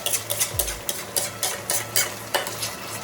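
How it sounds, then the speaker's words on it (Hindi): Ground tomato stirred into frying dry spices in a home-kitchen pan, heard as repeated scraping strokes of a spoon with a soft sizzle underneath, steady and close. "सूखे मसाले को भी थोड़ी देर चलाने के बाद अब इसमें डाल रही हूँ मैं टोमेटो को"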